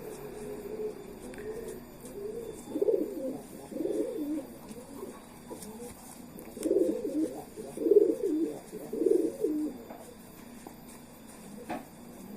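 A pigeon, a female, coos while being held in the hand: several low, throaty bursts that come in clusters, mid-volume and close, with quiet pauses between them and no talking.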